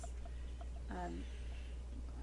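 Birds near a pond, with one clear clucking fowl-like call in the middle over a low steady background hum and faint distant chirps.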